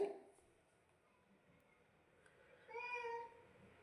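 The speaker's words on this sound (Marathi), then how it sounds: "हे मांजराची जातच खतरनाक असते" A cat meows faintly a couple of times in a kitchen, with a louder, drawn-out meow near the end over a quiet room background.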